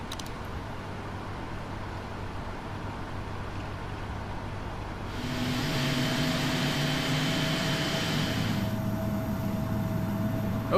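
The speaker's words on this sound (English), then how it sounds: "we have a good start on the right engine" Right engine of a PMDG Boeing 777-300ER in the Prepar3D flight simulator spooling up: a steady low cabin hum, then a louder broadband whoosh and rising tonal whine that swell midway and hold as the engine winds up, with no talk.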